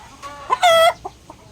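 A rooster from a Philippine game farm crows loud and close in one strong, sustained harmonic call, preceded and followed by a few short clucks, with no other sound.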